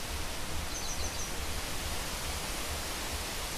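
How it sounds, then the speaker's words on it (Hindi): Steady broadband wind rushing outdoors in a village on a sunny day, with a low rumble underneath and a few faint bird chirps in the background; no talking. "आवाज़ सुनाई दे रही होगी हवा की।"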